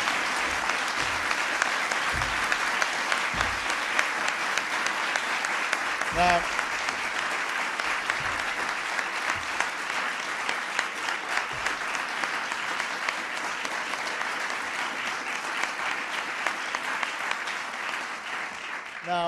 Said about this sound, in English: Give Tom a big round of applause.